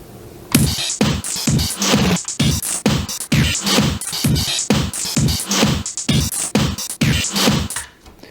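An Amiga-style drum pattern programmed on a Polyend Tracker plays as a loud, steady, punchy beat. Crisp, gritty kick and snare hits repeat in a driving rhythm with no voices over it.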